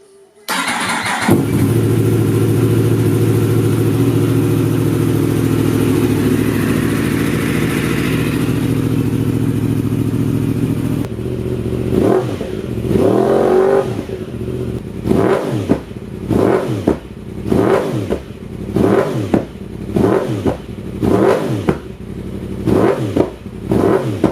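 A Yamaha R1M motorcycle fitted with an Akrapovic exhaust cranks and fires up, settles into a loud steady idle, then is blipped repeatedly in sharp rhythmic revs close by.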